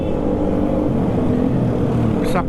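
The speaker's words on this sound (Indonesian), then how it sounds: "bisa kedengeran knalpot" A Honda Sonic motorcycle's exhaust rumbles steadily and loudly up close while climbing a winding uphill road on the route from Bandung to Situ Bagendit.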